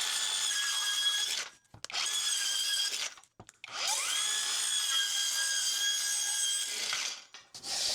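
A Hercules 4.5-inch circular saw cuts thin veneered plywood against the grain in three loud, steady high-pitched whining passes, each a second or two long, separated by brief pauses and ending abruptly.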